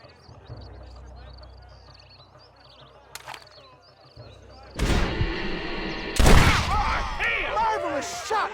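Gunshots from the Red Dead Redemption video game ring out as a few loud cracks over faint birdsong and ambient outdoor noise, with dense blasts building toward the end.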